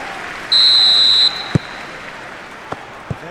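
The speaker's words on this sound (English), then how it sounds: "There's the whistle, and here we go." In the eFootball PES 2021 game, a referee's whistle sounds as a single loud, steady blast under a constant crowd murmur, followed by a few faint knocks.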